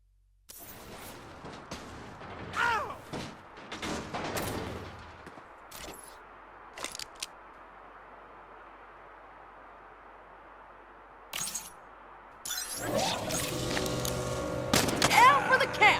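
Quantum aperture gun firing through walls at live targets in the Saints Row video game, with loud bursts of gunfire early on, a quieter stretch of ambient hum, then a dense, loud volley near the end.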